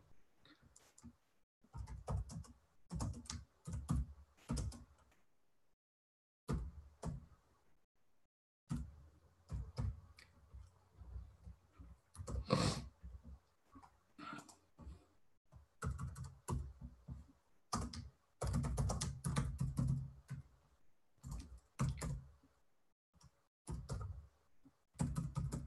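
Typing on a computer keyboard, close and fairly quiet, in bursts of rapid key clicks separated by short pauses.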